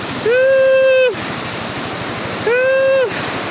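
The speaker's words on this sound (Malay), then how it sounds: "Air dia deras" Rushing river water at Sungai Klah in Sungkai, near the Lata Pongsu waterfall, roars steadily and loudly throughout, with two brief drawn-out vocal calls rising over the torrent.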